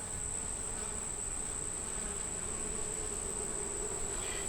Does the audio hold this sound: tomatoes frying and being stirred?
no